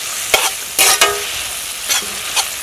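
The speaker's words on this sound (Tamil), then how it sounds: "புதினாவோட பச்சை வாசனை போகிற அளவுக்கு நல்லா வதக்கிக்கலாம்" Tomato and a handful of mint leaves sautéing loudly in a hot pan for a Tamil-style tomato and sesame chutney, a steady close sizzle broken by a few sharp scraping stirs of a spoon.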